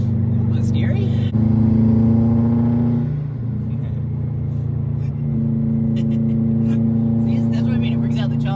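A Subaru WRX STI Type RA rally replica's turbocharged engine idles and revs in steady droning pulls, loud and close, with people talking over it.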